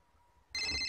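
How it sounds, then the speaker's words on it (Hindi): A telephone bell starts ringing abruptly about halfway through, loud and close, after a quiet room with a faint low hum. "ये लो, शैतान का नाम लिया, उसका फोन भी आ गया।"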